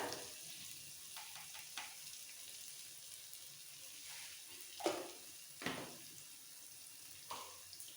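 Rice with raw mango, salt and turmeric being stirred in a pan, faint scattered spoon scrapes and soft sizzling, with a few louder clinks near the end; quiet overall and no speech.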